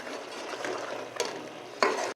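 Kaleji masala with softened tomatoes being stirred in a pan, a steady soft scraping and gentle sizzle with a couple of louder spoon knocks near the end.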